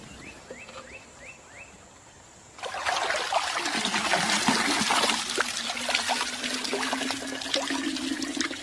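Muddy, foul water filtered through a makeshift cloth bag in the wild starts trickling after a quiet pause, then runs as a steady, close splashing stream that carries on to the end.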